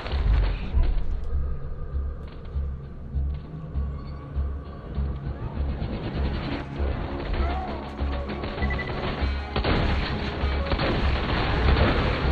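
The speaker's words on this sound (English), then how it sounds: "guy threw the grenade" Grenade blasts and booming gunfire in the video game Borderlands 2, a dense, loud battle din with repeated heavy thuds and crashes throughout, voices faintly present underneath.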